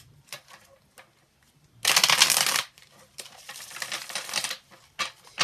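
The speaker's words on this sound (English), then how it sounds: "I just need to shuffle." Tarot cards are shuffled in short papery bursts: scattered light taps and riffles, then a loud dense two-second riffle, followed by more rustling and a few final snaps.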